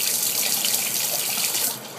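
A faucet runs hot water into a guest bedroom sink, giving a steady, loud, close gush with no break for about two seconds.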